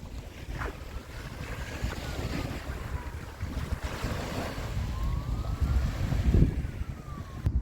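Sea waves washing in at the shore while strong wind buffets the microphone, a continuous roaring rush with surges of surf rising and falling, loudest toward the end, with no voices.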